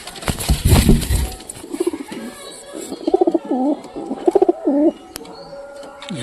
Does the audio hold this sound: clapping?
no